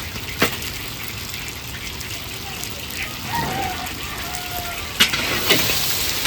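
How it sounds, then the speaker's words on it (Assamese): Fish sizzles in hot oil while cooking for a large 250-person community feast, a steady crackling hiss broken by a few sharp clinks and clatters of utensils. "মাছ ভাজি আছে"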